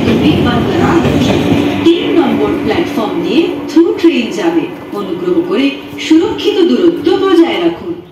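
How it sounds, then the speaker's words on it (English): A through train rushes past a Kolkata suburban station platform on the Sealdah line, a loud, steady rumble with a sustained metallic tone, under station public-address announcements. "Through train passing from platform number 3."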